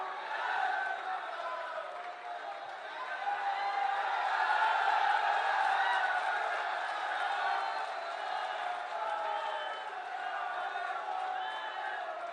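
A large crowd at an outdoor public development ceremony in Mahoba claps and cheers in a steady, sustained wash of applause with faint shouts, heard from a distance and rising slightly in the middle.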